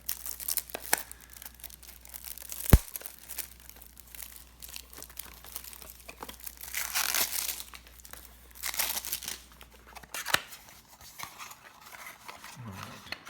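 Plastic-wrapped Simpsons TCG Mister Burns starter deck torn open by hand, with repeated crinkling and ripping bursts close up, a sharp snap near the start and quieter rustling toward the end, no talking.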